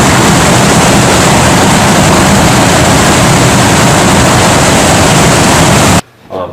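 A loud, steady roar like a jet engine from a maple syrup evaporator fills the air continuously, close and powerful, then cuts out abruptly near the end.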